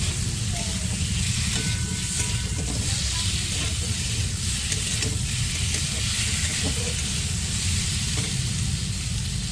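Fried potatoes stirred into a spice masala, with a loud, continuous hissing sizzle and faint scraping of a utensil throughout, up close.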